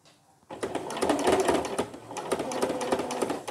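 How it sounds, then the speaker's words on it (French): A sewing machine back-stitches the fabric casing over a bra underwire, running a dense, steady mechanical chatter up close after a brief quiet start. "là je fais un point arrière"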